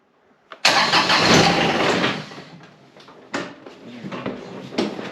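A John Deere X758 lawn tractor engine cranks and catches loudly after a brief click, running rough for a couple of seconds before dropping, then surging again in short bursts, close by with no talk.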